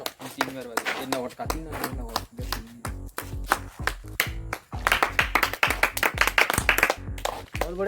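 An audience claps in a dense, uneven burst, with the sharp hand claps growing louder toward the end and speech mixed in.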